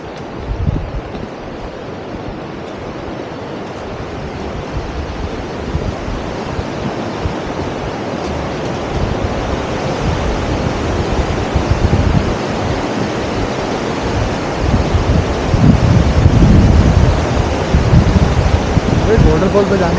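Rushing water from a waterfall near Kalpeshwar temple in Urgam Valley, a dense, steady broadband roar that swells a little louder toward the end, with no speech over it.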